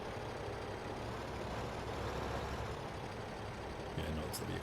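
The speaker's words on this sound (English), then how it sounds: "The only downside with this tractor is it's so slow backing up." A tractor in Farming Simulator 15 reverses slowly, its engine giving a steady low rumble under a continuous broadband hum with a faint high whine, with no break in level throughout.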